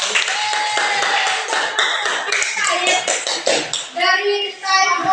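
A classroom of students claps for a group, a loud burst of hand clapping with children's voices mixed in.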